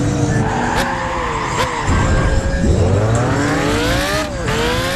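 Racing car engines in the video game Gran Turismo 5, loud high-pitched revving with rising and falling gear shifts and tire squeals as cars corner and accelerate.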